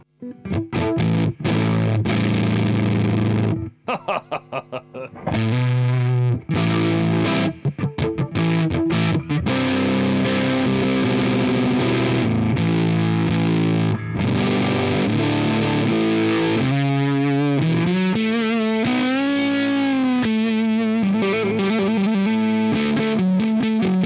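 Heavily distorted electric guitar with P90 pickups roars through a Peavey Decade amp, chugging chords and sustained notes, loud and close, with a brief choppy stutter early on.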